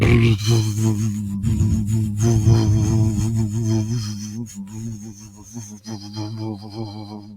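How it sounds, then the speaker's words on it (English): A person does a close, steady lip trill, lips buzzing and fluttering over a voiced hum for several seconds, with the pitch wavering slightly and the sound gradually fading. "You want your lips to vibrate."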